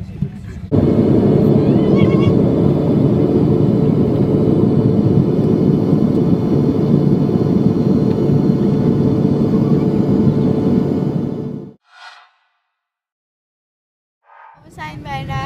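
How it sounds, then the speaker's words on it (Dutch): Steady broadband cabin roar of an airliner in flight on the way to Zürich, a loud unbroken rumble lasting about eleven seconds before cutting to silence, then a brief voice at the end. "We zitten nu in het vliegtuig."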